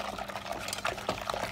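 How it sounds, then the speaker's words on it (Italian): Milk being poured into a custard mixture for thick pastry cream, a soft continuous liquid trickle and splash up close with small bursts of pouring. "una volta versata la prima parte, posso versare il resto del latte."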